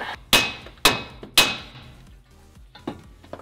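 Three loud, sharp metallic hammer blows land on a car suspension part during a rebuild, spaced about half a second apart, followed by a few fainter knocks and clatter.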